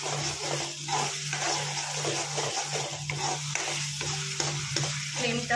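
Homemade ground cumin frying in a pan over high flame, a steady close sizzle with stirring scrapes and faint watery crackle throughout, no talk.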